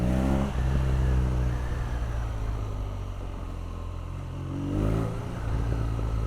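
A BMW R nineT Pure motorcycle engine drones low and steady, then rises in a rev near the end before settling back to a rumbling idle, close and fairly loud with no talk.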